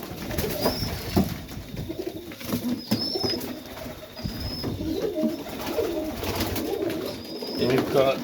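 Pigeons cooing in a loft late in the day, soft repeated coos and occasional wing flutters, close by, with someone talking at times over them.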